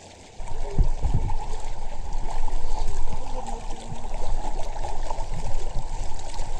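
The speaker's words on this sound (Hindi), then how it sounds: "आवाज़ आपको पानी की आ रही होगी," Spring water flows steadily out of the ground in an outdoor spot with sand, giving a continuous close rushing and trickling sound with no talk.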